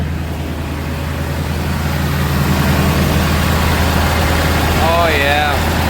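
A van engine holds a steady high idle, a low, even drone running close and unbroken for the whole stretch, with a few faint chirps near the end.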